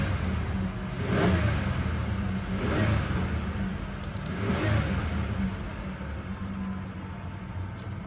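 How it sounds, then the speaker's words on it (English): A 2008 Ford Ranger XLT 4x4 with a 4-liter V6 revs up three times in close succession, each rise and fall of the engine clear over a steady idle, with no talk. "I'll go ahead and rev it up for you."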